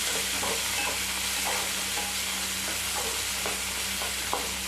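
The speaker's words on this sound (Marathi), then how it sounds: "त्याच्यात आता आपल्याला टोमॅटो टाकायचा आहे टोमॅटो पण चांगला भाजला गेला पाहिजे" Tomato frying and being stirred in a pan for spicy green chilli thecha, a steady close sizzle running throughout with repeated soft scraping strokes of a spatula, no voices.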